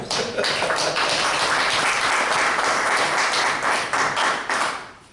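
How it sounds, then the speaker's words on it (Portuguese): During a church service, a congregation claps in loud, sustained applause with a dense, even patter that holds steady and then begins to fade at the close. "Uma salva de palmas ao Senhor"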